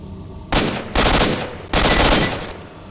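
Gunfire during an ambush in STALKER: three loud, close bursts of sustained automatic fire, separated by short gaps, with faint ambient noise between.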